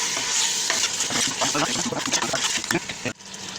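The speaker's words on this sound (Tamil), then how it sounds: "நல்லா மசாலா போட்டு நல்லா கிண்டாகும்." Masala is stirred in hot oil for chicken biryani with a steady sizzle and frying hiss, broken by repeated scraping strokes of a spoon against the pot, close up, ending in a short clatter.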